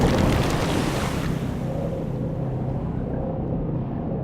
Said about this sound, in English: the Alliance's camp disappeared under waves of water with a very satisfactory gurgling